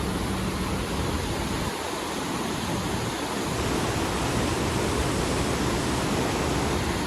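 Rushing water from Lembah Anai waterfall and its river, swollen and muddy after heavy rain, forms a steady broadband roar that holds constant and close throughout with no voices.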